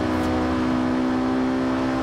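Alfa Romeo Giulietta engine in Forza Horizon 5 holding a loud, steady high rev after a downshift, a strong sustained drone running without a break.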